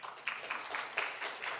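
A congregation claps during a church graduation and promotion service, with brief, uneven bursts of applause from a modest crowd.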